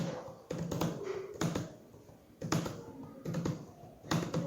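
Bursts of typing on a computer keyboard while manually filling in a form, quick clusters of key clicks separated by short pauses, close and fairly loud with no one speaking.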